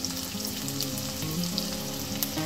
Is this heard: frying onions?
yes